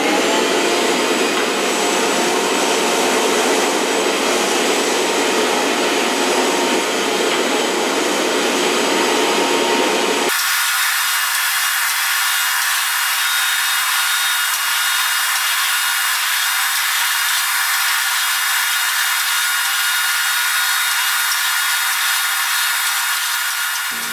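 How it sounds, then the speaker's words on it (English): RIDGID 1650RV motor-on-bottom wet/dry vacuum running loud and steady, sucking up sawdust and wood shavings with a hissing roar that shifts abruptly partway through to a thinner, higher whine, no voices. "let's go ahead and clean up all this sawdust and wood shavings"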